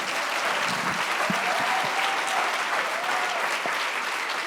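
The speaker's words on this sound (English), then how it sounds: "Let's give him a round of applause" A crowd applauds to welcome a guest at a film event, loud and continuous clapping close by for several seconds, with a few faint cheers mixed in.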